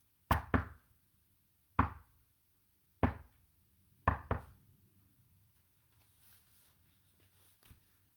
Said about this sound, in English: Saul responds and knocks.